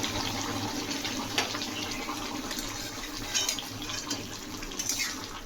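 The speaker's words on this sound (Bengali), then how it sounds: "আমি এখানে গরম জল ঢেলে দিয়েছি" Hot water being poured into a jackfruit and prawn curry in a pan, a steady rushing, splashing pour running close and continuous throughout with a few brief brighter splashes.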